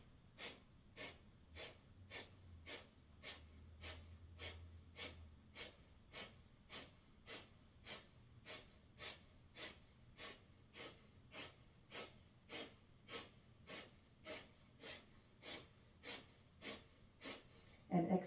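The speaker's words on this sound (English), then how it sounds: "We're going to take 15 seconds here of a gentle breath of fire" Rapid rhythmic breath of fire, a gentle yoga breathing exercise done in down dog, sounds as steady sharp nasal exhales repeating roughly twice per second, close and clear, over a soft low background hum.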